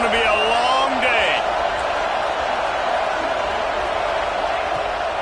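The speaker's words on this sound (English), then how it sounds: "This crowd, full throat, spreading the eardrums" Loud football stadium crowd roaring and cheering at a Texas game, a dense sustained wash of noise with a few whistles early on, lasting throughout without a break.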